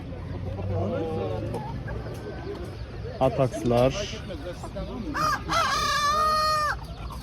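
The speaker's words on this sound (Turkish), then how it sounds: "Burada da bir horoz var." A rooster crows once, loud and drawn out, near the end, amid people talking and scattered bird sounds at a chicken and chick market.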